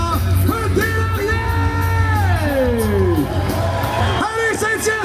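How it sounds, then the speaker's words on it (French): A crowd at an agricultural expo in Saint-Hyacinthe yells and whoops, with loud sustained shouts rising and falling over a busy babble of voices, while an announcer's voice booms over the noise. "Faites du bruit, s'il vous plaît, pour Benoît Deslarriers."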